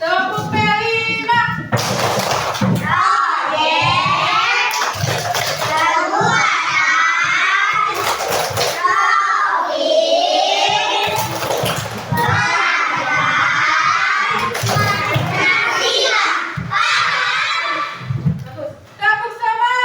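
Primary-school classroom children shouting a rhythmic clapping chant together, loud and close, with bursts of claps between chanted phrases and a teacher's voice leading in between.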